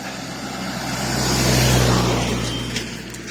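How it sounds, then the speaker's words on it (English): A Land Rover towing a trailer approaches on a road, its engine rumble swelling to a peak midway then easing off as it draws near and passes, with no talking. "Here's the Land Rover with his trailer"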